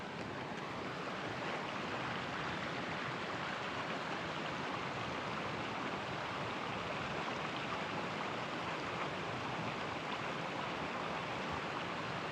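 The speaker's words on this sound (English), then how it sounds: "the water flowing." A mountain creek flows below an overlook, giving a steady, even rush of water that stays constant and fairly faint, heard from a distance with no talking.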